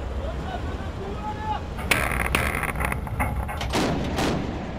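A 40 mm naval cannon on a warship fires several sharp booming shots at sea, loud and close over steady wind and engine rumble, with sparse radio-style voices around them.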